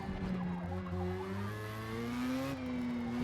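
A race car engine in the Forza Motorsport video game revs hard with steady harmonic drone, pitch rising and then stepping as it downshifts near the end, loud and continuous with no talk.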